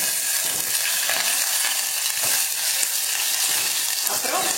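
Cumin seeds, fenugreek and black pepper frying in hot oil for a Chettinad tamarind curry, a loud, dense, continuous crackling sizzle close up, with no talking.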